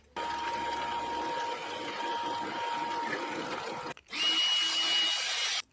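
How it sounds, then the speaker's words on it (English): A 5mm drill bit bores a hole in a metal part held in a 3D printed jig, a steady whining drone that stops for a moment and then resumes at a higher pitch. "5mm drill for an M6 thread"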